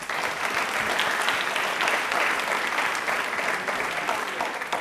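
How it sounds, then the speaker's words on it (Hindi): A studio audience at a Rajasthan television quiz programme about the railways gives steady, loud applause that holds evenly throughout without a break. "प्लीज एक बार तालियां जोरदार।"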